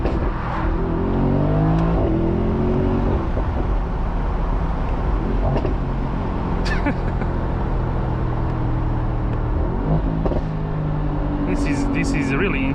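Mercedes-AMG SL 63 (2025) engine from inside the car, its exhaust droning and rising in pitch through repeated acceleration sweeps, with a few sharp pops and someone talking over it.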